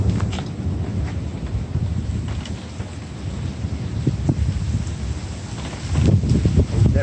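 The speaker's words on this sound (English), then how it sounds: "That wind's about to pick up." Strong gusty wind roars and buffets close by ahead of a severe storm, a dense low rumble swelling toward the end, with some faint voices.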